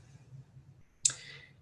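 One sharp, quiet mouse click stands out against a faint, low background hum in an otherwise still room.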